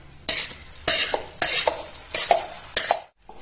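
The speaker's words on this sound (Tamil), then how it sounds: "இதை நல்லா கலரி விட்டுக்கலாம்." Mango puree and sugar are stirred into hot ghee in a pan, giving a series of close, bursting stir-and-sizzle sweeps at a steady rhythm, with brief pauses between strokes.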